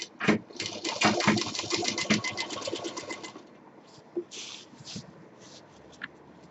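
A sewing machine stitches a simple cloth bag with 2-inch piping, running in a fast rattling burst for a few seconds, then stopping, followed by faint handling clicks of the fabric.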